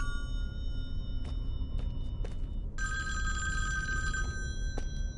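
An eerie phone rings in a virtual cabin room in the Friday the 13th video game, repeated metallic bell bursts sounding steadily over a low background hum, with a longer sustained ring near the end.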